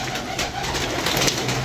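Pigeons cooing close by, soft throaty coos repeating over a steady background hiss for a moment, with no talk.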